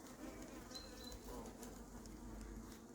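A hornet buzzes near a beehive at an apiary, its faint, continuous droning hum wavering slightly as it hovers, with no talking.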